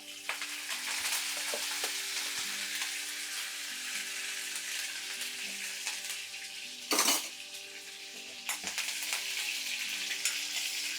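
Curry leaves fry in hot oil with cumin seeds and dried red chillies, a steady sizzle, a sudden loud burst of crackling partway through and occasional clinks of a utensil.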